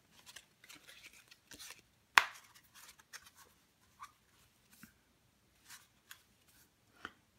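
A Bicycle Dead Soul playing card deck, made on Bicycle stock, gets shuffled and handled up close: faint, sparse papery riffles and soft snaps, with one sharp crisp snap standing out, and no talking.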